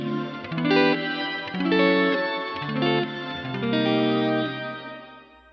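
Electric guitar chords ring out through a lush shimmer reverb from a Source Audio Collider pedal, bright high octave tones blooming above each strummed chord, four phrases in steady succession with no talking.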